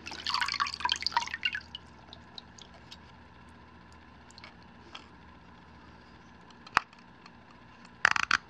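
Water dripping and trickling back into a bucket as a Cammenga Model 27 lensatic compass is lifted out, a close cluster of splashy drips at first, then scattered single drops and a couple of sharper splashes near the end.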